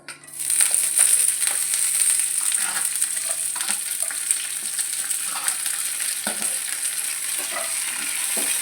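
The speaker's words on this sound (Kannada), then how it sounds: "ಬೆಳ್ಳುಳ್ಳಿ ಜಜ್ಜಿದ್ದು ಕರಿಬೇವು ಹಸಿಮೆಣಸು ಇಷ್ಟನ್ನು ಹಾಕ್ಕೊಳ್ತೇನೆ ಈಗ" Crushed garlic, curry leaves and green chillies fry in hot oil for chicken pepper dry, a steady bright sizzle with occasional spoon scrapes and taps against the pan, close and continuous, no talking.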